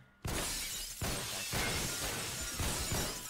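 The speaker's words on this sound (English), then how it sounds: "hear a lot of glass breaking" Glass shatters in the shooter game Phantom Forces, a sharp crash followed by a run of further smashing bursts, loud and close, with no voices.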